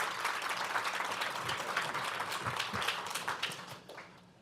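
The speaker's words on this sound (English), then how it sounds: "A round of applause, please." A conference audience at a fireside chat on AI gives the speakers dense, steady applause that holds for about four seconds and then fades quickly.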